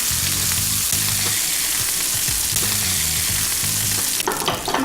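Chicken breasts sizzle in a frying pan with a steady, loud crackling hiss, broken near the end by a clatter as the pieces are shifted in the pan; faint background music plays underneath.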